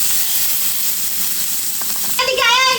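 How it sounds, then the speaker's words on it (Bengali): Small hilsa fish, rubbed with turmeric, salt and chili, frying in hot oil, a steady close hiss and sizzle with a brief scrape near the end. "মাছটা সুন্দর করে ভেজে নিয়েছি"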